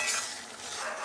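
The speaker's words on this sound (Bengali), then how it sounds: "নাড়িয়ে একটু ফুটতে দেবো।" Mango pickle being stirred in a pot while it simmers, a brief, steady hissing sizzle with faint scraping, close and fairly loud.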